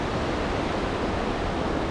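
Waterfall in a Norwegian national park heard from a steep hillside path, a steady, loud, broadband rush of falling water that stays constant throughout with no voices.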